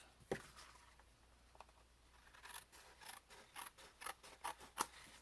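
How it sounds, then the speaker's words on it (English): Paper snips trim paper in a run of crisp, quick cuts that speed up and grow louder toward the end, close up in a quiet room. "Pair of paper snips. I need to trim that off."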